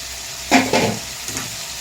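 Byadagi chili dropped into a hot pan of frying fish-curry base, giving two short sizzling bursts and a fainter crackle after, close and moderately loud with no voices.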